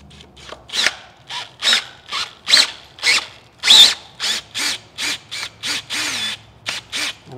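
A power drill cuts out old damaged threads in the front case of a CAT C15 engine in a series of short, repeated bursts, about a dozen whirring pulses close up, with brief pauses between them.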